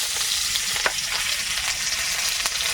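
Onion and garlic fry in hot oil, giving a continuous close sizzle and crackle with a few sharp pops. No one speaks over it.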